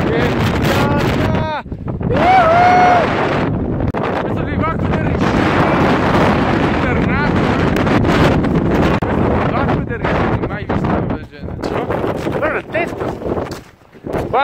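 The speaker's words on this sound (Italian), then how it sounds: "vento boia qua che non riesce neanche a stare in piedi, equilibrio" Strong wind batters the microphone on the summit of Rishiri Island, Hokkaido, Japan, a loud, gusty roar that continues throughout while a person talks over it.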